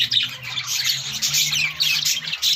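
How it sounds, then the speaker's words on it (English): Pet budgies, or parakeets, squawk and chatter continuously at close range, shrill overlapping calls with no talk. "Or parakeets."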